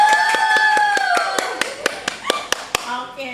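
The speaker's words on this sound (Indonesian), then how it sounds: "Itu yang di belakang tepuk tangan dong." Scattered claps from a few people at the back of a small studio podcast audience, a handful of sharp separate hits growing louder toward the end while a voice talks over them.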